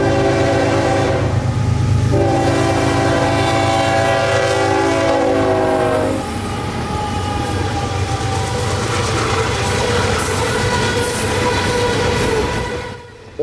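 Coal train of hopper cars passing at ground level near a siding in Florida, its loud horn blowing a long sustained chord before the rumble and clatter of wagons rolling by close up.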